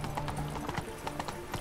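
Horse hooves clip-clop at a steady walking rhythm while riding in The Witcher 3: Wild Hunt, moderately close and slightly muffled over a soft ambient bed, with no talking.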